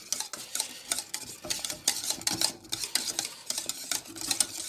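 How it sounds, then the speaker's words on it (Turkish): Thick custard is stirred with butter melting into it, rhythmic scraping and clinking of a utensil against the pot, close and moderately loud, with no talking. "Şimdi şöyle bu yağ eriyene kadar da bunu karıştıralım."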